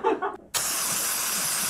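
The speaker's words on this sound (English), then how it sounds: "spray some in my hand, mister." A short burst of noise, then a steady, loud aerosol spray hisses continuously for over a second, close to the listener.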